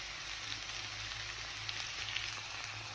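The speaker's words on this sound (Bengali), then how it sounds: "ক্যাপসিকামটা অ্যাড করে বেশিক্ষণ ভাজবো না যাতে ক্যাপসিকামের ক্রাঞ্চি ভাবটা থাকে।" Chowmein with capsicum sizzles steadily in a pan during stir-frying, a close, continuous bright hiss with small crackles and no voices.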